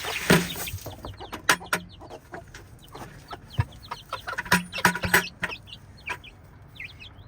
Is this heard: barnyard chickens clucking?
yes